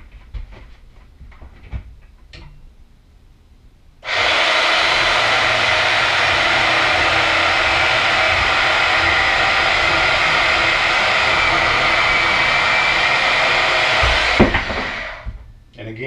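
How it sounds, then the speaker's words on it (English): Bandsaw cutting through metal under its own weight inside an enclosed trailer, a sudden loud, steady grinding whir that runs for about ten seconds and then winds down, with faint knocks before it starts. "Just the weight alone is allowing the bandsaw to cut through the metal."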